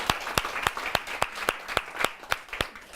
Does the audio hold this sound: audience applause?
yes